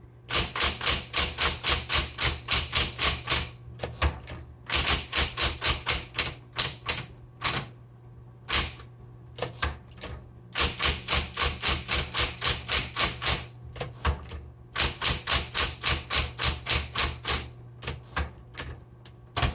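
A 1960s Smith Corona Electra 110 electric typewriter typing uppercase across all the keys, loud, rapid bursts of sharp key strikes in runs with short pauses between, up close and with no talking.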